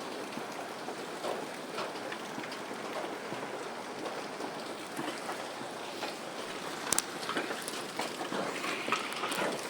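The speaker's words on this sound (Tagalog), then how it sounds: "Lakas ng ulan na yun." Steady, dense rain pours down continuously, a broad hiss with scattered drips and spatters, no voices.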